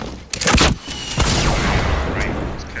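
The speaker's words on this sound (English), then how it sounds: "there's kids behind me shooting" Gunfire in the Fortnite battle royale game: a burst of shots near the start, then a dense, sustained stretch of rapid firing and booms that carries loudly to the end, with a voice talking over it.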